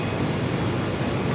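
Compressed air rushes steadily through a brazed plate heat exchanger during an oil check, a loud, even broadband hiss that holds without a break and carries no talk.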